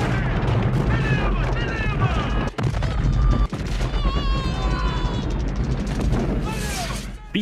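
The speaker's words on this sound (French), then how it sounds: "C'est une succession d'explosions." Explosions in the attack on an enemy camp from the film Predator, a dense, loud barrage of booms and blasts with gunfire rumbling continuously, with shouting and music layered throughout.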